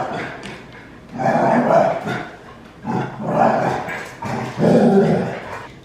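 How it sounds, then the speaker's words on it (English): A lively dog barking and growling indoors in a home kitchen, with several loud, close bursts of barks and rough growls separated by short pauses. "we have an extra dog, so you might hear he's getting his last minute energy out."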